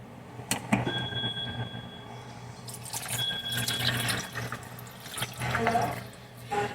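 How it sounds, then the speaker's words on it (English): Pink lemonade juice poured into a container, a steady liquid splash and trickle running for several seconds with light clinks, fairly close and with no talking. "I'm going to use pink lemonade juice. And you just pour it in."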